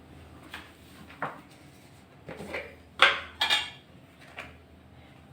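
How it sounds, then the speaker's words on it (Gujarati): A spoon stirring a rice mixture in a pan for ghes, heard as a handful of separate clinks and scrapes against the metal with quiet gaps between them, the loudest cluster in the middle. "અને સરસ આપણે હલાવી લેવાનું છે."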